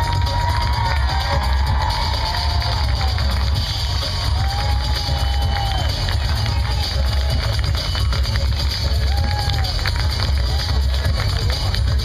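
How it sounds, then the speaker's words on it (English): A stadium crowd at a game cheers and applauds a wounded U.S. Marine lance corporal, a dense, continuous roar of clapping and shouting that stays loud and steady with distant whoops rising out of it. "let's give a warm round of applause to Lance Corporal Thomas Barker."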